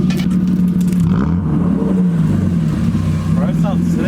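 A straight-piped BMW E36 325i engine revs loudly close by, rising and falling in pitch, while people talk over it.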